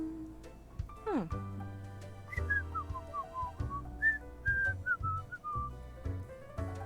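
A character in the video game Death and Taxes whistles a short, wavering tune with rising and falling notes. Low background music plays beneath it.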